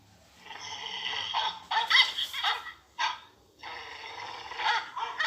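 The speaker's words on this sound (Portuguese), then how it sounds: "é um cachorro" A dog barks in several bursts, with short sharp calls separated by brief pauses, fairly close and clear with no talking.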